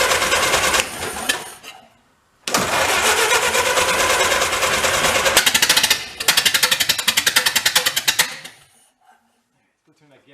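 A 1931 Ford barn-find engine runs loud with open exhaust, a rapid harsh chatter in two bursts separated by a brief pause, then cutting off to near silence.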